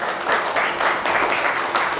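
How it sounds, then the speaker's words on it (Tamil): An audience at a natural medicine lecture event gives steady, dense applause. The hall claps evenly throughout with no voices over it. "நல்ல ஒரு கைத்தட்டல் சாருக்கு முதல்ல கொடுத்துடலாம்"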